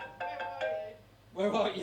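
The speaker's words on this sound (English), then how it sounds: "That's my phone." A mobile phone rings with a melodic tone in a pub during a stand-up comedy set, a brief bright ringtone followed by a person speaking over it.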